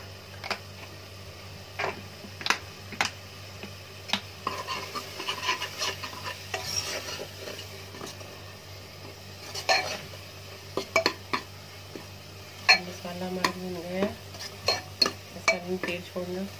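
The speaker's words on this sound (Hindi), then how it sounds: "ये सब्जी मसाला तड़के में डाला जाता है।" Spice masala is stirred in a tempering of hot oil, producing repeated close clinks and scrapes of a spoon against the pan in an irregular rhythm, with a voice speaking briefly near the end.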